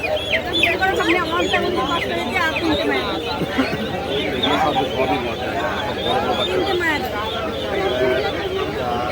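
Chickens and other fowl cluck and chatter at a busy livestock and bird market in Bongaon, West Bengal, with a steady mix of bird calls running throughout, close and fairly loud.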